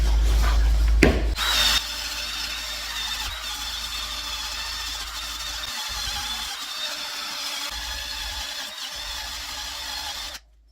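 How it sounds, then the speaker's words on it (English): A power drill with a wire attachment grinds surface rust off a BMW brake rotor in a loud, continuous, raspy scrubbing, near and steady throughout, cutting off abruptly at the end. "just by a little bit of drilling there to remove some of that surface rust"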